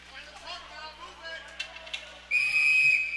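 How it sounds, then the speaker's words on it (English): A referee's whistle sounds at an ice hockey game between the Blue Jackets and Traverse City. Play-by-play commentary runs first, then a loud, piercing blast cuts in near the end and holds for almost a second. "And a whistle. That whistle was loud."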